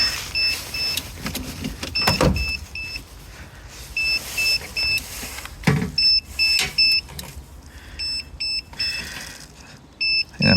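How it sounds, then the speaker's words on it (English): A Halfords jump pack connected to a camper van with a completely flat battery gives repeated short electronic beeps in irregular clusters, over clunks and rustling handling noises. "the Halfords jump pack is just beeping"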